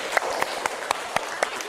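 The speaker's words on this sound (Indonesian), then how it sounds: "tepuk tangannya" A small group claps a few times in a classroom-style teacher training session, with roughly six distinct, evenly spaced claps over a soft background, fairly close and brief, no talk over them.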